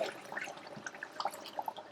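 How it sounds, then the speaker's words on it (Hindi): Water pours into a pot of mutton chops being cooked with masala, a faint, bubbling trickle with small splashy drips, brief and quiet. "अब इसमें आप ऐड करेंगे पानी"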